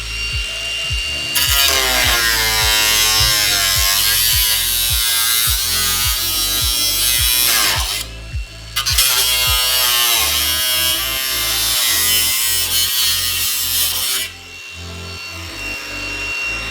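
A power tool cuts through rusty rocker panel sheet metal on a Nissan 240SX S14, a loud continuous grinding buzz with a steady pulsing rhythm that drops out briefly twice before resuming, close up and with no talking.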